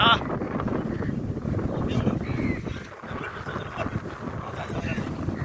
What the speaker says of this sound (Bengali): খোলামেলা পরিবেশ অনেকদিন পর বাতাস ঠান্ডা বাতাস